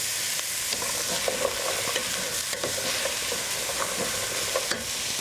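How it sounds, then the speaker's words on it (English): Sliced carrots and onions sizzle in a hot pot while being stirred around, a steady frying hiss broken by repeated soft scrapes and clacks of the spoon, close and continuous with no talking. "I'll put those in there with the onions and stir them around"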